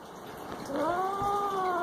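A small cat yowls in one rising, drawn-out meow while being petted, close and fairly loud over a steady background hiss.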